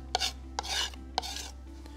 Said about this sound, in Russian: По традиции раздавили, соли чуть-чуть добавили и обухом ножа таким образом растираем,